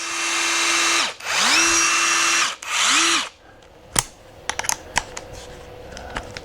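A Kincrome battery impact driver with a 1/4 inch shank runs in three loud close bursts, each one whirring up and winding down, and a few sharp clicks and taps follow.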